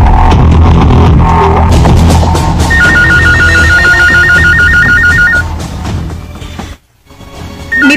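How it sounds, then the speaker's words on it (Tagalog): A telephone rings with a repeating electronic trill in a Cebuano radio drama, loud over a dense, busy background of music and noise, then stops before a brief silence. "May bagting ang telepono"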